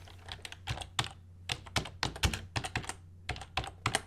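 Code is being typed on a computer keyboard: a quick, uneven run of close, crisp keystrokes with short pauses between bursts, and no voice over it.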